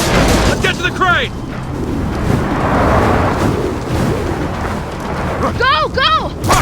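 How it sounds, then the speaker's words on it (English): Thunder from a lightning storm in Gears of War 4 rumbles loudly and continuously, with shouted voices breaking in near the start and again near the end. "Lightning flurry!"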